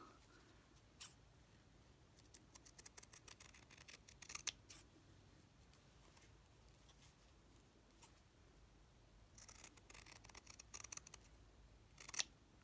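Faint, close snipping of scissors cutting fabric around a seam for a stitched house-shaped box, with bursts of quick successive cuts separated by quiet pauses and no talking.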